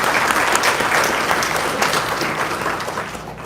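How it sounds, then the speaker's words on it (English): An audience at an executive ethics symposium applauds a panel, with many hands clapping loudly and steadily before the sound eases off slightly toward the end. "Round of applause to our panel, please."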